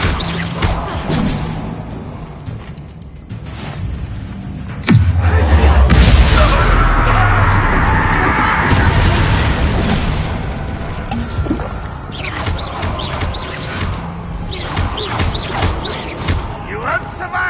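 A Bombarda spell explosion in the video game Hogwarts Legacy: a deep, loud boom with a rumbling tail, set among whooshes, crashes and game music, with voices speaking around it.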